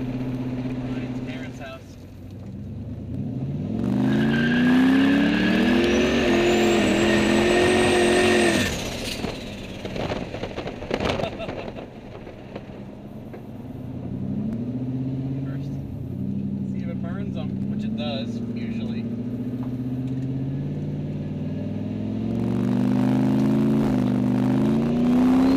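A street car rolls slowly at around 20 mph, heard as a loud, close engine note that climbs through a rising rev, drops away, then settles into steady lower cruising with repeated gentle pitch rises.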